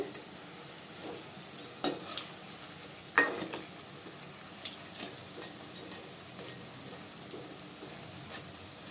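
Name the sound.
bondas frying in oil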